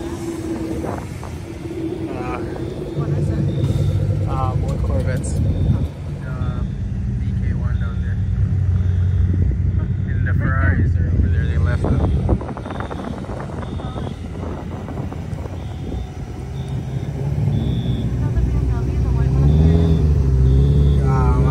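Modded cars pulling away from a car meet, including a white Mitsubishi Evo, a Skyline, a Lamborghini and a BMW, give off a continuous deep engine rumble with rising revs and passing exhausts, heard under steady crowd chatter.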